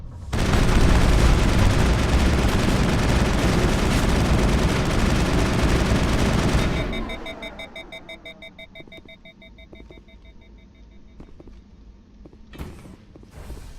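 Dense, loud automatic gunfire from the Mass Effect video game fills the first half, then gives way to quieter mechanical clanks, a faint tone and a few sparse shots.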